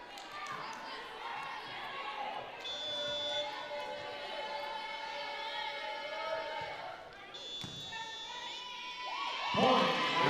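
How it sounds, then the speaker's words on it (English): Crowd noise in a gym during a Region XIV volleyball tournament game, a steady din of shouting and cheering with a buzzer-like tone, rising louder near the end. "Nice crowd across the way on the opposite side."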